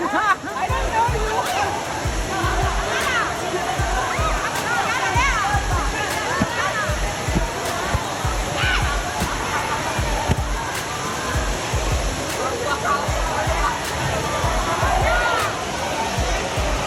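Sauniatu Waterfall in Samoa pours with a constant, broad rushing roar, while people chatter nearby throughout.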